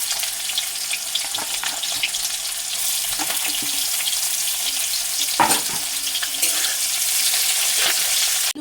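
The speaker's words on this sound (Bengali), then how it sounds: "আমার তেলটা গরম হয়ে গিয়েছে এখন আমি পেঁয়াজ কুচি এবং শুকনো লঙ্কা এবং কাঁচা লঙ্কা" Chopped onion with dried and green chillies frying in hot oil in a pan, a loud continuous sizzle and crackle with occasional scraping stir strokes throughout.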